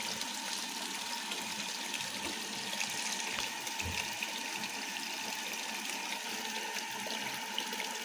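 Frigidaire Rollermatic washing machine filling with hot and cold water for a rinse: a steady, faint rush of running water that goes on without a break, with no one speaking.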